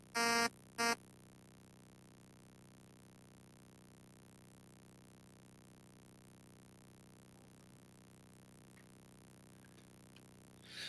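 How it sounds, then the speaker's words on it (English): Warning beeps from Activision's Space Shuttle video game sound as two short, loud electronic bursts at the very start, followed by a steady, faint low hum. "It scares me when it beeps at me."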